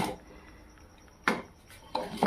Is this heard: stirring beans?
yes